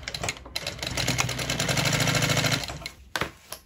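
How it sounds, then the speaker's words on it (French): A sewing machine runs a short straight stitch along a bag lining with a 6 mm seam allowance, a steady fast mechanical whir for about two and a half seconds that then stops, with a few clicks after. "Ma machine est cette fois-ci sur un point court et je vais coudre avec une marge de 6 mm tout le long."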